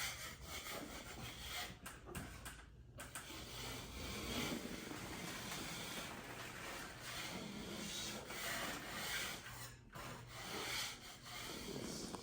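A scraper rasps steadily across a dampened popcorn-textured ceiling in close, faint, repeated strokes with short pauses between passes.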